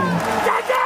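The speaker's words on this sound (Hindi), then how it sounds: "एक जोरदार ताली रमेश भैया के लिए" A crowd claps and cheers for Ramesh at a lively stage event, with a loud, dense burst of applause and shouting that quickly fades.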